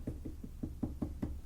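Knuckles rap on a hard surface in a quick run of about eight soft, dull knocks, evenly paced and close, with no voices over them.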